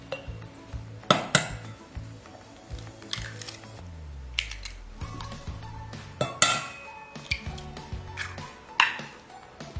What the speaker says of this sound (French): Deuxième étape, on va casser les œufs.